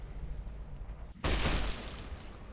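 A single loud gunshot blast in the Fallout: New Vegas video game bursts abruptly after quiet ambience, followed by a brief decaying tail and a faint high ringing.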